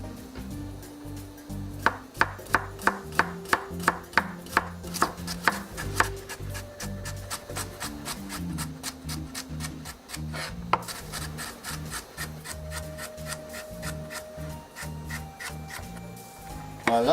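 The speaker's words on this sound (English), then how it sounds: "So we're gonna slice them a little thin." Knife slicing purple, white, orange and yellow carrots thin on a wooden board for a salmon stir-fry: a steady run of crisp, close chops, fast and even, pausing briefly and then resuming.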